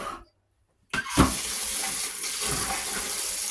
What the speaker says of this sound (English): so you don't have to hear all that water running